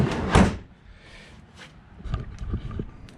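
A Mud Buster flap drags and scrapes as the door of a Honda Pioneer 1000 side-by-side is swung shut, with a thump followed by a few soft rubbing scrapes close by.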